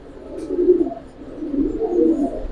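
Giribaz and coloured pigeons coo in two soft, rounded bursts close by, low rolling calls with a short quiet gap between them.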